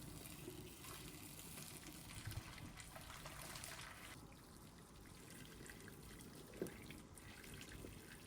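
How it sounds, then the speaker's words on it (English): Water poured off a pot of boiled acorns during tannin leaching, a steady, close splashing stream with a brief louder gurgle near the end, no voices. "and then drain the water off."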